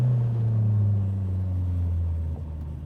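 Toyota AW11 MR2 with a 350 hp 3S-GTE engine driving, a steady deep engine drone and rumble heard from inside, easing off near the end, no talk.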